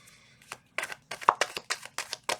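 Tarot cards being shuffled by hand, a run of about ten crisp riffling bursts coming in quick, uneven succession at close range, quiet and free of talk.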